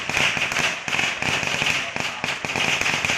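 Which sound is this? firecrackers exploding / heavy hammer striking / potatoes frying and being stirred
firecrackers exploding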